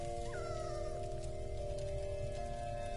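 A dog in the video game Blues and Bullets whimpers and howls softly, thin wavering whines rising over a low steady background hum, faint and intermittent.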